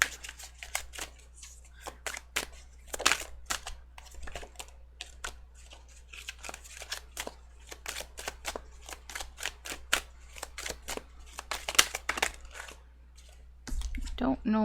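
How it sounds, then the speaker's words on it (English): Tarot cards being shuffled by hand during a reading, a run of crisp papery riffles and flicks in irregular bursts, close and fairly quiet over a low steady hum, with a voice talking briefly near the end. "shuffle the cards properly"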